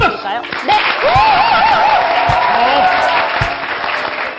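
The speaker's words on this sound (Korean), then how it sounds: "우리 큰 박수를 좀 맞춰볼까요?" An audience at a Christmas special church entertainment show applauds loudly and steadily throughout, with voices and a few chuckles mixed in over the clapping.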